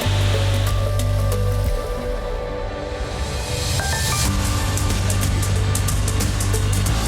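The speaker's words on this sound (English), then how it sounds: "you can get up to the waterfall at different sections" Loud, continuous roar of a waterfall at DuPont State Park, a dense broadband rush of falling water heard close by and alone, with no talking.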